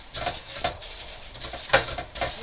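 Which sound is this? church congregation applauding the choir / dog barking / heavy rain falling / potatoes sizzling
potatoes sizzling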